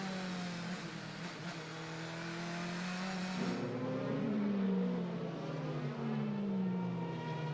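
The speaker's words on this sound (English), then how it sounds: "Spangler continues to lead from Bert Schneider, the 2 Mercedes-Benz." Mercedes-Benz DTM touring race cars at the Nürburgring in 2006 scream past one after another, loud engine notes sweeping down in pitch as they pass close by.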